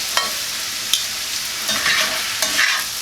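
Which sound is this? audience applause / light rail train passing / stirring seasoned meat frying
stirring seasoned meat frying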